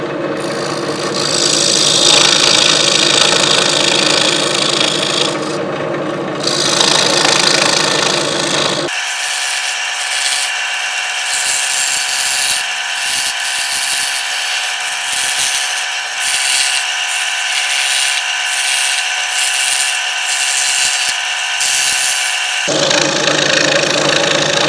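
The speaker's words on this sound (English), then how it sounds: "I'm set up on the jigsaw, so let's go ahead and cut these teeth" A jigsaw cuts wooden piranha teeth for an automata base, a loud, steady buzzing saw drone that shifts partway into a rhythmic, rattling blade chatter through the wood before easing back, with no voices.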